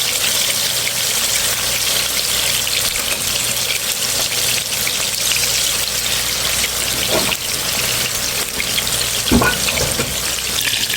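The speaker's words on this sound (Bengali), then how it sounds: "আমি কড়াইতে মাছ ভাজার জন্য সরিষার তেল দিয়েছি" Katla fish sizzles in mustard oil in a kadai, giving a loud, steady hiss that holds unbroken throughout, with a couple of brief clinks near the end.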